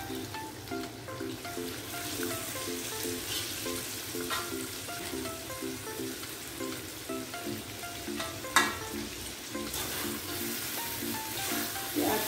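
Fried tilapia pieces go into a pan of spicy semur sauce, giving a steady, close sizzle throughout with one sharp knock partway through.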